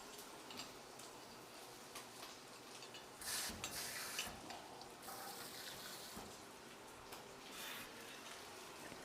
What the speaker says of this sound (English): And It's sizzling nicely.